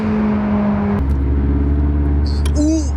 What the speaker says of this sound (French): Là vous avez un bon bruit de turbo.